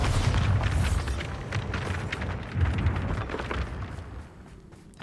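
A Bombarda spell goes off in Hogwarts Legacy, a loud booming blast followed by crackling, rumbling debris that fades over a few seconds.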